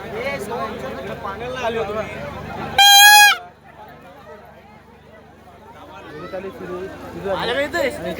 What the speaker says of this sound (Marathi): आता हॉर्न सगळी पेपाड्या वाजवत जातील बघा